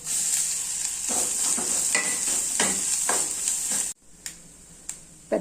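Grated coconut for coconut rice sizzles and fries steadily in a hot pan while a utensil stirs and scrapes through it. The sizzle drops away abruptly near the end, leaving a few isolated clinks.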